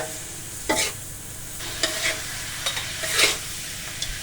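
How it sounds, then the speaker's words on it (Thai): Fried mackerel stir-fried with holy basil leaves, giving a steady sizzle broken by several scraping, clattering stirs spaced irregularly, close and alone with no talking. "จากนั้นเราก็จะใส่ใบกระเพรา แล้วก็ผัดผัดไปกี่ครั้งนะครับ"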